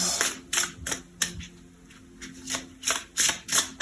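Oracle cards are shuffled by hand during a tarot-style love reading, producing close, crisp bursts of riffling and flicking that repeat about ten times in an uneven rhythm, with no talking over them.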